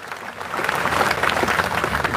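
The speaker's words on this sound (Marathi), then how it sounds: "जोरदार टाळ्या वाजवून आपण त्यांचं" A crowd at a protest rally in Yavat village near Pune breaks into loud, sustained applause to welcome a guest onto the stage, the clapping swelling after a quieter start.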